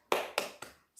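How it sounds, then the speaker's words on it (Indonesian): Three quick, sharp claps fall in an even rhythm, close and fairly soft, in a rhythmic group spirit clap, followed by a brief higher-pitched tap at the end. "Tepuk semangat."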